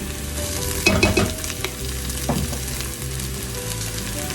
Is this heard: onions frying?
yes